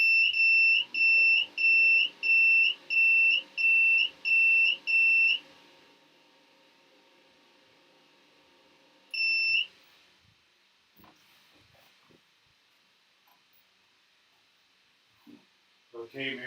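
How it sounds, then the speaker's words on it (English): A run of eight steady electronic beeps from a Cusimax ice cream maker in quick, even rhythm, then a pause and one more beep, followed by faint handling noises. "You heard that beep, Mary?"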